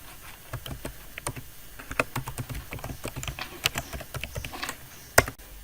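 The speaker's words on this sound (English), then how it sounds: "I'm going to type my email account of Google." Fingers tap out an email address and password on a computer keyboard, quick uneven keystrokes close by with short pauses, ending in one firmer key press.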